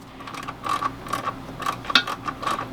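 Socket ratchet loosening the floor bolts of a Thetford Aqua Magic II RV toilet, a quick run of light rhythmic clicks repeating in short bursts, close and fairly faint.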